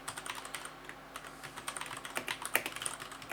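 Quick, light keystrokes on a computer keyboard as an install command is typed on an Ubuntu server. The patter is faint and close, with no talking.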